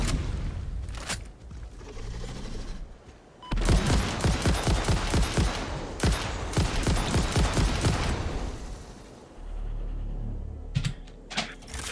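A rapid-fire gun in the Satisfactory video game lets off a fast burst of around fifty rounds, a dense rattling stream of shots lasting several seconds, framed by quieter moments and brief clicks before and after.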